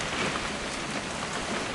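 Steady rain pours in a video game scene, a dense, even hiss of drops striking surfaces with no gaps, close and fairly loud throughout.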